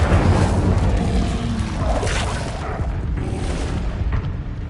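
An Incendio fire spell cast in the video game Hogwarts Legacy, heard as a loud, sustained roaring whoosh of flame with a booming low rumble that holds steady for several seconds before easing slightly.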